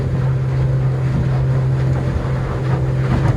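A Yamarin 59c boat with a Yamaha 100HP outboard cruises at about 4000 RPM and 18 mph, a steady loud engine drone with wind buffeting and water rushing past the hull.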